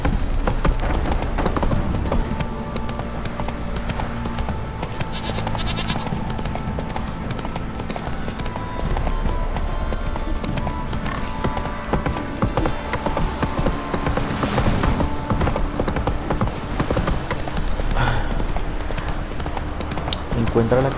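Roach, the horse in The Witcher 3: Wild Hunt, gallops in a steady, continuous clip-clop of hooves that runs the whole time, mixed with other game sounds.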